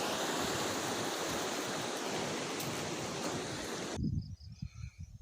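Water flowing in a stream during the season's first new water, a steady, full rushing wash heard close up that cuts off abruptly near the end, leaving quieter low rumbles.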